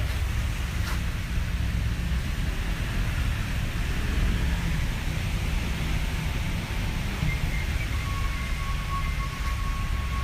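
Heavy rain pours onto a glass-coated car, a dense, loud, unbroken wash of drumming that stays level from start to finish with no voices.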